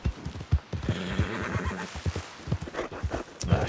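A horse in Red Dead Redemption 2 neighs loudly and up close over rhythmic hoofbeats, galloping off in a short, busy burst.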